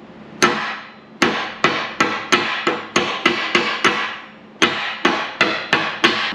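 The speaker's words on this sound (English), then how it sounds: "you just take a slag hammer, if I can hold things," A slag hammer smacks the underside of plasma-cut metal to knock the slag off: about a dozen sharp, ringing metallic blows, near and loud, some in quick runs and others spaced by short pauses, with no talking.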